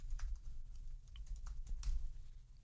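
Steady keyboard typing, a rapid patter of key clicks up close with a low background hum throughout.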